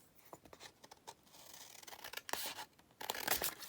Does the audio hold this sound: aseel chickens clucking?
no